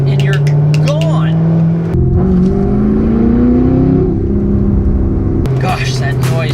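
A C6 Corvette Z06's 505-horsepower LS7 V8 pulls hard under acceleration, a loud, rising roar that climbs steadily through the revs with a brief gear-change break, heard close and without talk.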